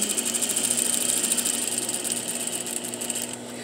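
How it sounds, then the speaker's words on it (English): A sewing machine runs steadily, its needle stitching fabric for a welt-bound pocket in a rapid, even mechanical rhythm, close and clear before slowing to a stop. "I'm going to start sewing."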